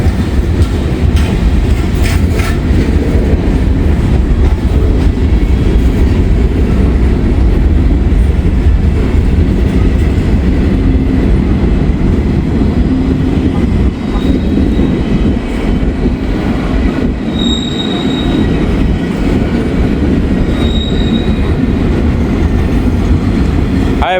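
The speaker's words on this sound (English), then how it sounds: "This will be the final train for today" An underpowered freight train with no distributed power units rolls past on the railroad, a loud continuous rumble of wheels and cars with rail clatter and occasional squeals, sustained throughout.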